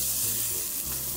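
Garlic and vegetables frying in a pan, a brief, close, bright hissing sizzle with faint stirring scrapes, no voices.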